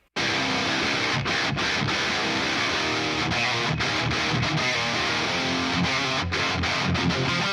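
Two heavy metal guitar tracks layered together, one from a 5150 amp with a Maxon OD808, the other from a Mesa Triple Rectifier with a Fortin Blade, playing a thick, continuous riff with rhythmic staccato breaks, loud and close.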